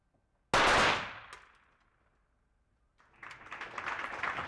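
At an ISSF rifle and pistol World Cup competition in Milan, one sharp shot cracks out and rings away into the hall, followed after a pause by a rising wash of crowd applause.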